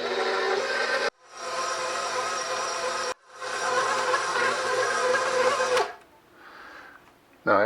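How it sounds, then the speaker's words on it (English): Stand mixer working sourdough bread dough, a steady close mechanical whir of the motor in bursts broken by short pauses, then falling quieter near the end. "So let's get this thing on to the stand mixer"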